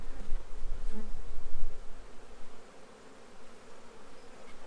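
Honey bees buzzing during a spring beehive inspection in a backyard apiary, a continuous close, dense hum with individual bees droning past.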